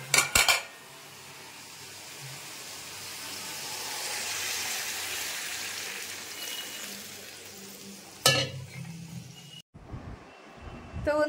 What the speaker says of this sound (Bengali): রাত্রিরে পনিরের তরকারি হচ্ছে এখন